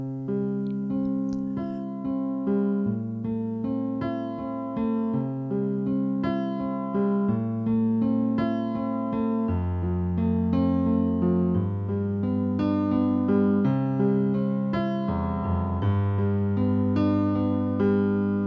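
Piano plays a steady sequence of sustained chords in a 1980s pop style, bass notes shifting every couple of beats beneath repeated upper voicings, clear and solo at moderate volume.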